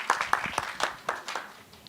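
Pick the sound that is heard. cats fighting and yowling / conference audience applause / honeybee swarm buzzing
conference audience applause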